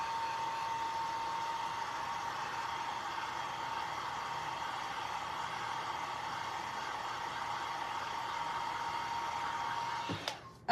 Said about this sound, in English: let's give this a quick dry.